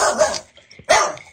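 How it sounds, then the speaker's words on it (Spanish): A small dog barks twice, loud and close, with a short gap between the two sharp, rough barks and no talking over them. "parece que el perrito se enojó"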